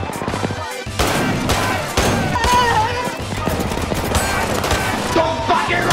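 Rapid bursts of gunfire from the Kitchen Gun, a comedic kitchen cleaning spray gun, crackle loudly and continuously over busy music and commotion, with a short gap near the start.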